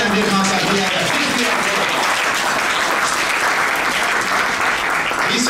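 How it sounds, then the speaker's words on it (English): Loud, dense audience applause fills a hotel ballroom event hosted by a mayor, steady and sustained throughout with crowd noise mixed in. "please clap for MJ Khan Saab."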